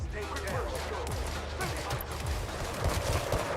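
Gunfire from a pistol in the video game Gangstar Mirage City, with rapid overlapping shots and bursts layered over busy game noise and someone talking throughout.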